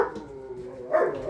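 Big dogs barking in a defensive outburst at an evening feeding, a few gruff barks rising over a steady low background murmur, with the loudest burst near the end.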